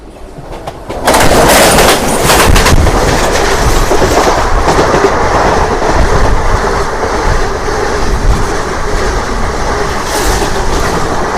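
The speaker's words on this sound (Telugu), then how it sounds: "ఏదో ట్రైన్ వస్తుంది ట్రైన్ చూద్దాం" A train rumbles in loudly and steadily, wheels clattering on the rails with a continuous roar that fills the scene; no voices.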